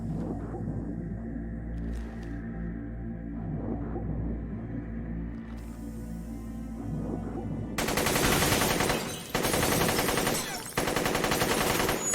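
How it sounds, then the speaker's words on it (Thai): AK rifle fire in S.T.A.L.K.E.R. erupts as loud, rapid automatic bursts with brief pauses between volleys, preceded by quieter tonal, droning game ambience. "สเตรล็อกก็เลยจัดการประเคนกระสุน AK ใส่ตู้นอนทุกร่าง"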